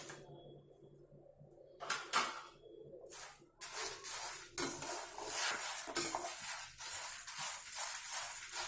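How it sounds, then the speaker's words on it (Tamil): Chillies are sautéed with other ingredients for idli podi, sizzling steadily in a pan. Scraping stirs and a few clatters of the utensil sound up close, growing into a fuller dry fry with no talk. "மிளகாய் இப்போ கூடயே போட்டு வதக்கலாம்."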